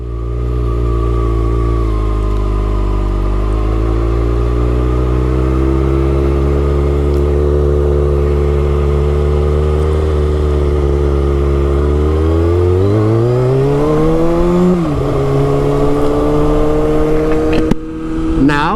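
A 2022 Kawasaki Ninja ZX6R KRT sportbike with an ECU flash and traction control off rides at full power, its engine loud and close, holding a steady high drone before revving up through the gears near the end.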